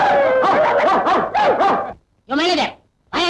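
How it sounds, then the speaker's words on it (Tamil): Several dogs bark and yip in quick overlapping bursts, loud and close, as they guard a mill; barking runs steadily, pauses briefly, then resumes in two short outbursts, with speech-like voices mixed in. "4-5 நாயை கட்டி வச்சு கொலைக்க விட்டு கஞ்சி ஊத்துறியா?"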